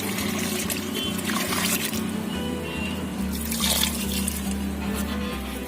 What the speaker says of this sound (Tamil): தண்ணி வந்து தேவையான அளவு ஊற்றிக்கலாம்